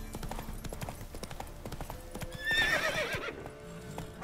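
Game audio from The Witcher 3 of the horse Roach moving at a gallop: steady hoof clip-clops throughout, with a neigh breaking in near the end over background game sound.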